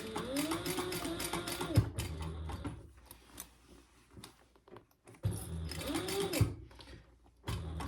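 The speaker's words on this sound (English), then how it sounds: "You're going to be sewing over those connectors again, which is good." A sewing machine stitches over bag connectors in two bursts of rapid mechanical whirring, each a couple of seconds long, with a quieter pause of fabric handling and small clicks between them.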